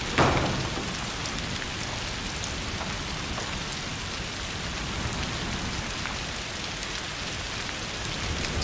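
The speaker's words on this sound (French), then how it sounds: "Saleté de pluie." Rain pours steadily in the video game A Plague Tale: Requiem, a dense, even hiss of drops hitting surfaces that starts with a brief louder burst and then continues unbroken, with no voices.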